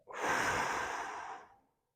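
One long, soft exhale during a spine rehab exercise on a quad roller, a close breathy sigh that swells quickly, holds for over a second, then trails off into silence.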